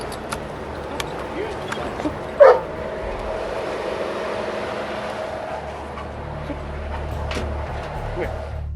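A single short police dog bark rings out early over a steady low hum of idling traffic, then the hum continues with no further barking.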